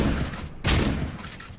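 Heavy gunfire sounds in the survival game Last Day on Earth, dense booming shots blending into a rumbling volley with one sharp blast partway through.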